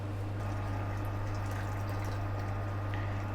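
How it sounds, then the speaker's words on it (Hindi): Water pours into a pot of simmering chana dal, a soft, faint liquid wash over a steady low kitchen hum, with no talking. "1 कप पानी मैंने और डाला है इसमें।"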